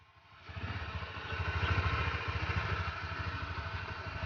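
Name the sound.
Honda Click 125 motorcycle engine idling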